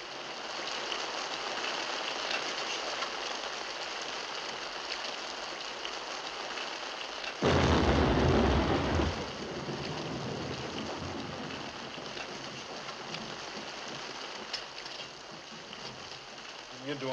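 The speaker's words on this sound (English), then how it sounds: "It's raining outside" Steady rain hisses outside, with a louder rushing burst partway through before it settles back to a constant patter, in the 1955 film Santa Fe Passage.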